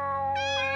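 A cat in the video game Ib gives one short, clear meow, close and loud with no talking over it.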